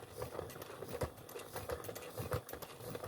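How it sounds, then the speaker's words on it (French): A manual pencil sharpener grinds a pencil, making quiet, rhythmic mechanical whirring with repeated small pulses at close range. "Mais au moins, j'ai un taille-crayon manuel."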